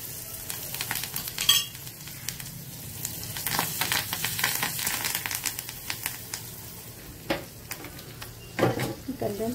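Curry leaves dropped into hot tempering oil with dried red chillies, asafoetida and crushed garlic crackle and sizzle in a pan, with crisp popping bursts over a steady frying hiss, heard close and alone.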